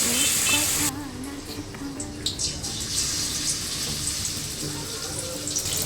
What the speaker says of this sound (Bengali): আর একবার ডিমের গলায় ডোবাবো, দিয়ে এই যে তেলে ছেড়ে দিয়েছি গরম করে।